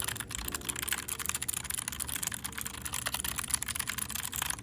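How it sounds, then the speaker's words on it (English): Rapid, continuous typing on a computer keyboard, close and fairly quiet, with irregular clicks and no voices. "Typing ASMR."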